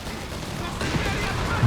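Dense gunfire and explosions in the real-time strategy game Company of Heroes 3 roll on continuously in a noisy battle din, with a voice talking over the fighting.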